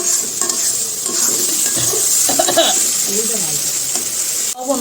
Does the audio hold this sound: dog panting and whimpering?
no